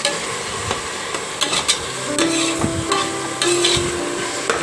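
Onions and tomatoes with salt for mutton gravy are sautéed in a pan, a constant close sizzle broken by irregular spoon knocks and scrapes against the metal.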